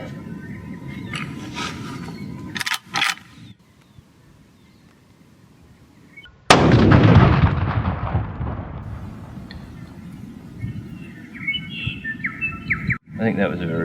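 A single sharp rifle shot fired while hunting in wet rainforest, loud and close, with a long rolling echo that fades over several seconds, preceded and followed by bird chirps and background ambience.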